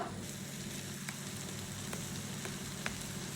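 Steady sizzling of pork frying in a hot wok, a continuous crackling hiss with occasional small pops.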